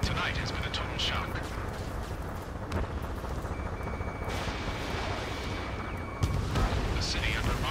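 Dense, continuous rumbling gunfire and jet roar fill an Ace Combat 7 video game scene, steady and loud throughout, with a sharper blast near the end and voices talking underneath.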